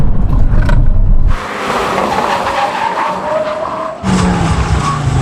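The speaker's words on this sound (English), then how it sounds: "let's see how they compare in a brake test" Audi RS3 cars brake hard in a brake test, one loud tire screech and skid after a roaring approach, then a second engine and tire noise rising near the end, with no voices.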